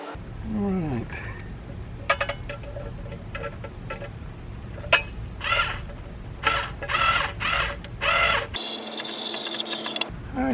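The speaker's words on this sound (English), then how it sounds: "Let's see if we can put some screws in." Screws are driven into wall anchors while mounting a 30 amp RV plug, with bursts of a power driver whirring in short repeated runs between clicks and handling noise, the last burst sustained and loud.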